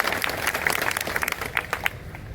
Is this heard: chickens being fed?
no